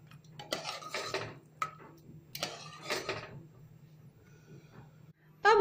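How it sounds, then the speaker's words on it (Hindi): Chickpeas being stirred in a metal pot for chole masala, a spoon clattering and scraping against the pot in short irregular bursts, close and fairly quiet, with a louder clank at the very end. "छोले ऐड करेंगे। इसे अच्छी तरह से मिक्स कर लेते हैं।"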